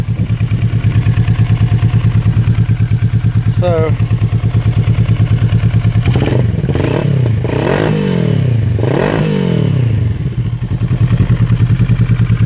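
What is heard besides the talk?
Kawasaki ER6N motorcycle engine running warmed up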